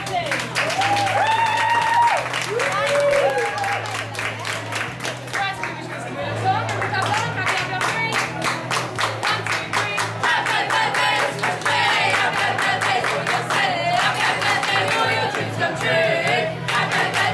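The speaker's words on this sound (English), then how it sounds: "Can I get a massive round of applause, please?" Party guests at a birthday celebration in Milton Keynes applaud and cheer for a 19-year-old birthday girl, loud sustained clapping with whoops and shouts over pulsing background music.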